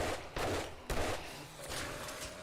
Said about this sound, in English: Constant artillery barrage.